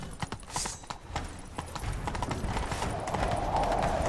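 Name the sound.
horse galloping in The Witcher 3 video game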